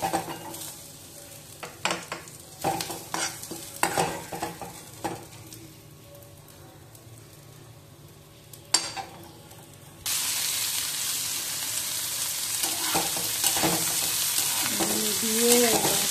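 Cabbage leaves with green chilli, garlic, Kashmiri chilli and ginger go into a pan: first scattered scrapes and taps of stirring, then a sudden loud, steady sizzle of frying that carries on to the end.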